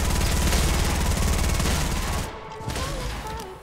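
Rapid automatic gunfire in the video game Fortnite, a loud dense burst of shots lasting about two seconds that cuts off abruptly. Quieter ambient sound follows.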